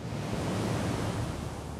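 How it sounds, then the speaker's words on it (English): AI-generated ocean waves from Kling 2.6 give a steady, dense wash of surf noise, continuous and fairly loud throughout, with no voices. "Hear those waves?"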